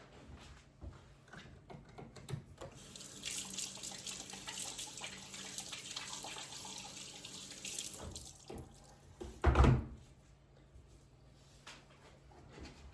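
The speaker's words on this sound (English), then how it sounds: "I'm gonna wash my hands." Tap water runs steadily into a sink while hands are washed beneath it, with a louder splash near the end; no talking.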